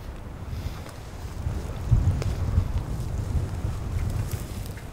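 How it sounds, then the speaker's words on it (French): Strong wind buffets the microphone in a steady, low roar, rising slightly midway, with no voices. "Parce qu'il y a beaucoup de vent."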